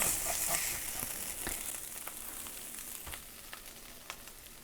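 Hamburger steak with onions sizzles steadily in a hot pan, a close, continuous frying hiss with small pops, easing slightly as the heat is lowered.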